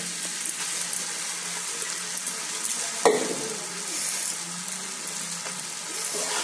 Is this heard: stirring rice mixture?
yes